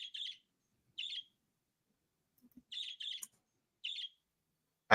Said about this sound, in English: I hear a bird and it goes squawk, squawk, squawk